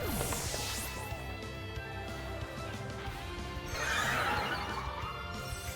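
A horse's whinny sounds as the Chilling Neigh move in a Pokémon battle game, a dense synthesized neigh with swooping tones and a bright burst near the end, loud over game music.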